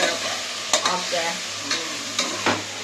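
Food fries and sizzles in a pan under a steady hiss, with a few sharp scraping stir strokes at irregular intervals and a brief spoken word.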